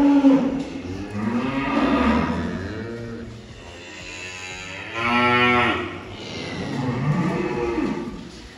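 Several hungry cows moo loudly and close together in a cubicle barn, long drawn-out lowing calls overlapping, with a hum of barn noise in between.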